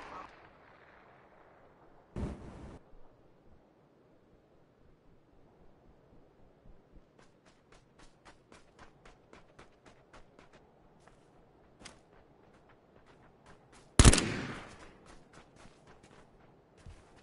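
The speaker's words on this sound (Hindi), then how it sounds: "गोली की आवाज।" Gunfire in PUBG on PS4: a loud shot opens, a long run of faint distant pops follows at irregular intervals, and a sharp, close blast near the end rings out.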